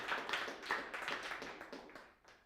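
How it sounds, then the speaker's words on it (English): Audience clapping after a talk on building effective sites, a loose burst of claps that fades over a couple of seconds, faint and moderately distant. "Give me some claps, yeah, thank you."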